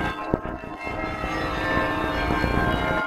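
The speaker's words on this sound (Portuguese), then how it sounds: "Os toques do seu famoso carrilhão enchem o ar." Carillon of a baroque church in Portugal, a dense overlapping ring of bells sounding continuously with rich sustained tones.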